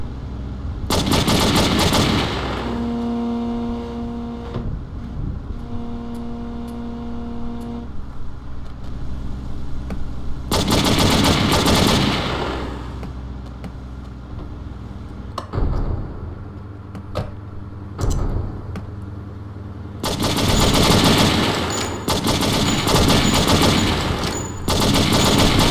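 Gunfire in the True Crime: New York City video game, several loud bursts of rapid automatic fire separated by quieter stretches of engine and street noise, no talking.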